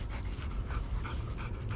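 A bigger, dark-haired dog pants steadily up close, with quick rhythmic breaths over a low rumbling background and no voices.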